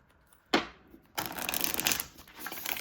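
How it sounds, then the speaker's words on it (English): A deck of tarot-style reading cards is shuffled: one quick riffle burst, a pause, then a longer continuous rapid fluttering shuffle, close and moderately loud. "I really need to shuffle these cards well."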